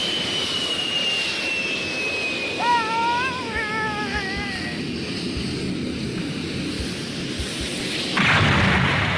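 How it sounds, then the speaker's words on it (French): An animated jet aircraft roars with a high whine sliding downward, then a louder rumbling burst near the end as it crashes into mountains. "On dirait que c'est un avion qui vient de s'écraser."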